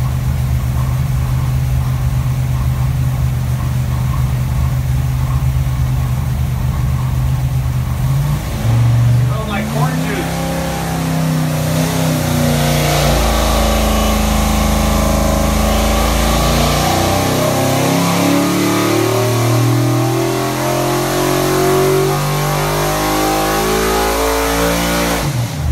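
A Ford 408W stroker V8 running E85 on a dyno idles loudly, then is revved hard with rising, roaring engine pitch sweeping up and down through pulls, steady and close throughout.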